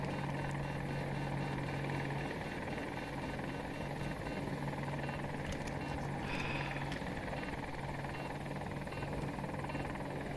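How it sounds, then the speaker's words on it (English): An attack helicopter in Battlefield 2042 holds a steady rotor drone with engine whine throughout, moderately loud, with brief game effects layered over it. "Attack on the helicopter."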